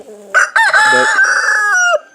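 A rooster crows loudly and close by, one long, strained cock-a-doodle-doo with a short clucking lead-in.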